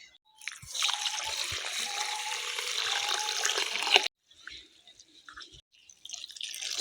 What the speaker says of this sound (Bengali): চাল ধোয়ার গাছে জল দেওয়া একসাথেই হয়ে গেল